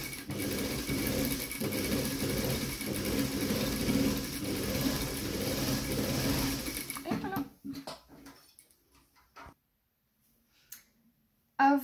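A sewing machine fitted with a pintuck presser foot stitches in a steady rapid whirr for several seconds, then stops abruptly, followed by faint clicks and a brief soft voice.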